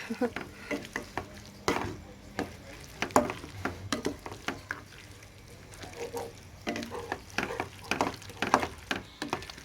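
Chicken and mushrooms are stirred in a frying pan with repeated scraping and clinking strokes over a soft sizzle, near and irregular, with faint background noise.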